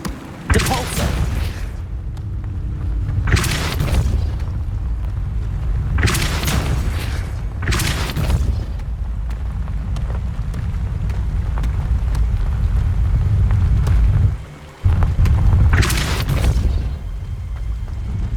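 Depulso force spells are cast in Hogwarts Legacy, several loud whooshing bursts at irregular intervals over a steady game ambience, with a short dropout near the end.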